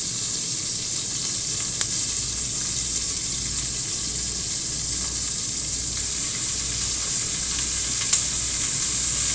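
Cut broccoli florets sizzling in a hot pan, a loud steady hiss and crackle that continues throughout with a few small pops.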